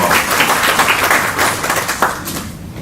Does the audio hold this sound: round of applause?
yes